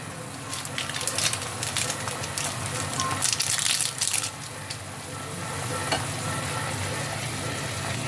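A pan of boiling water with Maggi masala stirred in bubbles and hisses steadily, with a spoon scraping and swirling close by through the first half, then a calmer simmer.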